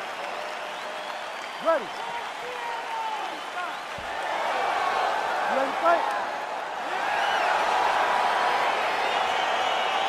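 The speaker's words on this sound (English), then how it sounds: "crowd getting excited as this fight gets underway" An arena crowd in the UFC 4 video game cheers and applauds in a rising swell that stays loud to the end, under a voice speaking over it.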